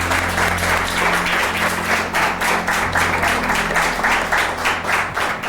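An audience at a religious television programme gives a loud, dense round of applause. The clapping is steady and sustained, with many hands blending into one continuous wash over a low hum.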